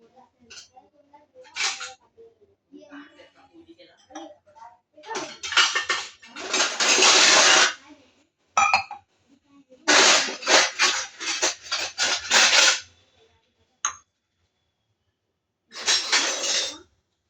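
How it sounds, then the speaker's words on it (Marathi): Steel utensils, glasses and vessels clatter and clink in bursts while kokum sherbet is prepared, sharp close knocks and scrapes separated by brief pauses, with some quiet talk between them. "खूप भांड्यांचा आवाज येत आहे"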